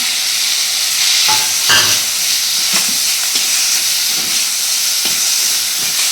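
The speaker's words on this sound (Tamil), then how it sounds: "கடுகு வடித்தோடனே இந்த அவரைக்காயை சேர்த்துக்கலாம்" Broad beans sizzle and hiss loudly in a hot pan of mustard-seed tempering, with a steady steamy frying roar and occasional scraping stirs of a spoon.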